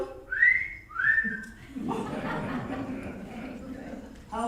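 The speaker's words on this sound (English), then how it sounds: "How can you whistle with your mouth closed like that?" Two clear, rising whistled notes come from a person with lips closed, followed by a dull murmuring background and faint rustle, in a stage comedy performance.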